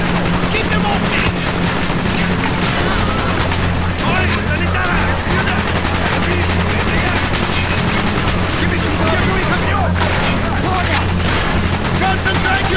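Dense, loud gunfire and sustained automatic bursts fill a Call of Duty: Black Ops battle mission without pause, with shouted voices mixed into the din.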